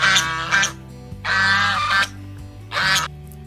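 Three loud, harsh honking bursts from two Chinese geese close by, separated by short pauses, with a low hum underneath.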